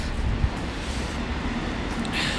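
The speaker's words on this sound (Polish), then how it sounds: "Także jedzie pociąg." A train passes nearby in town, a steady broad rumbling wash with a soft thump near the start and no talking.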